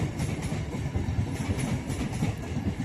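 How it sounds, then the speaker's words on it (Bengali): A train passing in front of a house makes a fairly faint, steady rolling rumble with a light rhythmic clatter of wheels on rails, heard from a little distance. "বলতে বলতে ট্রেন চলে এসেছে আমাদের।"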